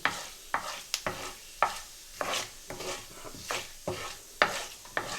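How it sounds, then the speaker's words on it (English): Onion and cumin seeds crackle and sizzle in hot oil for a tadka, with repeated sharp scraping stirs of a utensil against a pan, close and fairly quiet. "So I'm just going to add onion and cumin seeds. They sizzle straight away"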